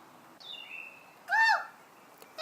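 A person imitating a bird call, a short whistled chirp followed by a brief louder warbling coo, fairly close and otherwise quiet.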